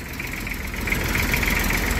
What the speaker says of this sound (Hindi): दोस्तों अपना ट्रैक्टर मैंने आके स्टार्ट करके छोड़ दिया है कुछ देर के लिए